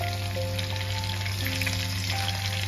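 Garlic and ginger frying in oil for a desi-style garlic potato chilli, a dense, even sizzle running close and constant under a low steady hum.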